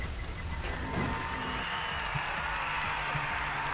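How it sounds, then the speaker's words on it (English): Steady crowd noise from a sim-racing track in Assetto Corsa, a dense broadband wash of distant cheering and applause held evenly throughout without clear peaks. "Can hear the crowd again."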